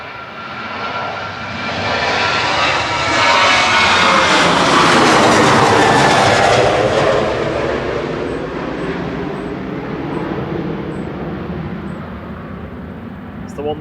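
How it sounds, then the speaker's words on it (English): A Ryanair passenger jet departs Manchester Airport, its engine roar swelling to a loud broadband peak mid-clip and then easing as it climbs away, while people talk faintly underneath. "This is the Ryanair to Faro departing now."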